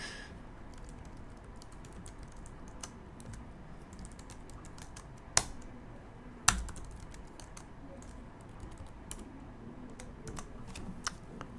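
Code being typed on a computer keyboard for an HTML and CSS pizza project: a steady, fairly quiet patter of keystrokes with a couple of sharper, louder key hits, and no voices.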